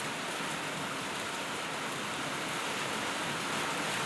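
Steady rain falling on a rural landscape, an even, continuous hiss of drops at moderate level with no voices.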